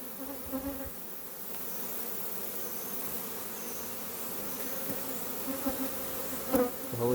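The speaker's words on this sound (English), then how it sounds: "These bees aren't going anywhere without their queen" A swarm of bees clustered on a peach tree drones in a steady, dense buzz throughout, with individual bees flitting close by now and then.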